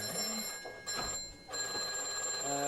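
An electromechanical telephone bell rings in steady bursts with brief gaps between them, the tone sharp and metallic, heard close with no talking; it is faulty, ringing when it shouldn't.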